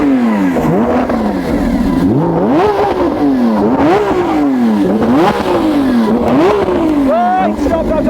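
A Lamborghini Aventador SVJ's V12 engine revs repeatedly, climbing and dropping in sharp surges, loud and close, with a brief voice near the end.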